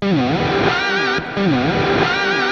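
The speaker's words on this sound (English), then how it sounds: "I added a reverse sound going into that." A distorted, effects-heavy electric guitar swells in reverse, then bends upward into a solo note, repeating twice with a brief dip between, loud and sustained.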